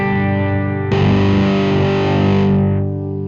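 Electric guitar on its neck pickup driven through a DIY fuzz pedal: a thick, distorted sustained chord swells brighter partway through and rings out for a few seconds before fading, with no talking.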